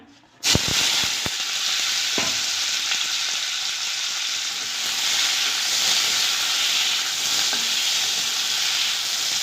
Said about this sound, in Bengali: এবার এতে দেবো আমি পেঁয়াজ কুচিটা